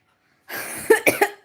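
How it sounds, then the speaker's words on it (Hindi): Several harsh, close coughs from a person with a heavy cold, coming in quick succession after a short wheezy breath, loud and clear against a silent background. "बहुत खांसी हो रही"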